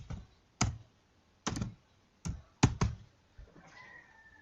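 Typing on a computer keyboard during work in Blender 2.9: a handful of close, distinct key presses in an uneven rhythm, followed by a faint electronic tone.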